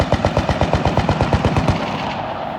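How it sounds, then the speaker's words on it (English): Rapid bursts of gunfire at a military show in Denton, North Carolina: a fast, regular string of loud, close shots for about two seconds, then a fading rumble with no talking. "Oh, gunfire."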